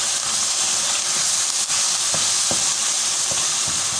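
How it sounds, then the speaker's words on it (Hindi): Sarson ka saag fries in oil in a pan, giving a steady close sizzle and hiss with faint stirring clicks and scrapes, no voices. "हम इसको तब तक भूनते रहेंगे जब तक ऑयल जो है वो किनारे छोड़ दे।"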